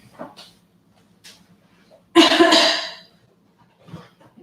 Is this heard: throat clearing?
yes